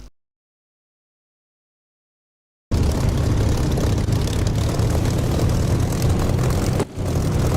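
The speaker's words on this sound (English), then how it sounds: "I'm taking off on the taxiway." After a couple of seconds of silence, a flight-sim aircraft engine in DCS roars to life at full power for a taxiway takeoff, a steady loud drone with a brief dip near the end.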